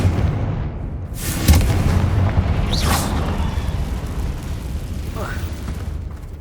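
A Confringo fire spell blast in Hogwarts Legacy, a sharp booming burst followed by a rumbling roar, with a character's voice and some whooshing sounds around it.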